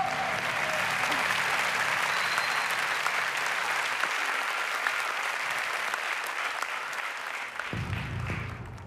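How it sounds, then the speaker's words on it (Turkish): Studio audience of a Turkish Wheel of Fortune game show breaking into loud, dense applause that holds steady for several seconds before thinning out, with a brief voice near the end. "Koskocaman bir alkış önce."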